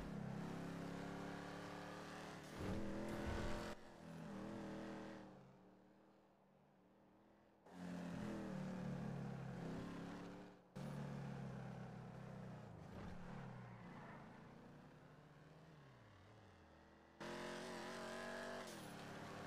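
A car drives in a roleplay video game, its engine droning and shifting pitch through several gear changes with brief tire noise, cutting in and out between quieter gaps.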